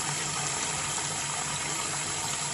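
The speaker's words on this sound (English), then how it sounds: "so the water is filled" Water pours steadily into an aquarium tank as it is filled, a continuous close rushing and splashing flow with no pauses or speech.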